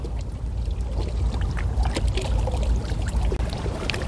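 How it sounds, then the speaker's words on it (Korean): Water sloshes and laps steadily against the shore of a reservoir lake on a cold, windy day while rising waves churn close by, a continuous splashing wash with no voices. "파도가 점점 더 심해지고 있습니다."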